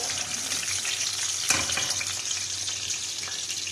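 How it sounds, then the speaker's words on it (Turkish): Hot peppers frying in a pan give a steady close sizzle and crackle, with one brief clatter midway and no talking over it. "Bu arada biberlerim de kızardı arkadaşlar."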